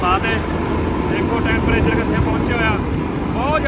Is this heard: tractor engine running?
yes